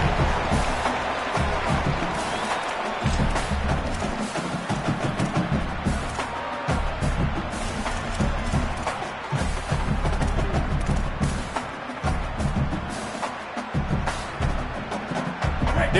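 A stadium crowd in a college football video game roars continuously at a big third-and-four play, with deep rumbling swells and thumps under the noise.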